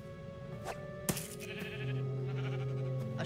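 A sheep in the video game Minecraft Story Mode lets out a short bleat followed by a longer one, fairly faint and close, over light game sounds.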